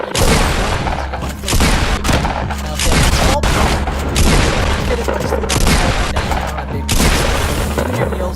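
A pump shotgun fires in Fortnite during a double-pump fight, with loud blasts in quick rhythmic succession and dense gunfire mixed with game effects throughout.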